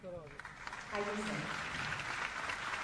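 Applause from the audience at a lamp-lighting ceremony during a Gujarati celebration event in Raipur, a faint crowd clapping that swells in after about a second, mixed with a voice at the start.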